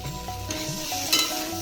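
Whole green chillies hit hot oil spiced with Kashmiri chilli powder, producing a close, steady sizzle and frying crackle with a few scraping stirs, and no voices.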